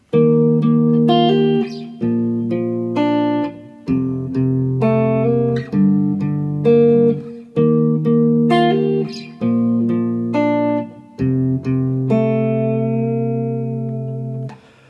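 Guitar plays a verse, sustained picked notes and chord shapes ringing with reverb in repeating phrases, loud and close, alone for the full stretch.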